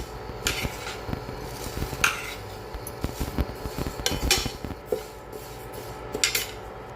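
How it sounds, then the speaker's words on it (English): Moong dal dry roasting in a pan over slow heat, a spoon scraping and clinking against the metal in irregular stirring strokes with a faint grainy rustle, close and alone without talk. "The roasting is being properly done, I think, because some of the grains have become red in color"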